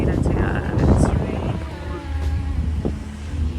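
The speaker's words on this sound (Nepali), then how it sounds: "कस्तो हावा लागिरहेको छ" Strong wind buffeting an outdoor evening picnic spot near a main road, heard as a heavy low roar and rumble across the mic, loudest early on and steady throughout.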